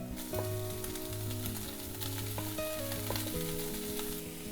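Paneer sizzles in a pan seasoned with salt, chilli and turmeric, a steady close frying hiss with soft stirring, while a melodic background music bed plays throughout.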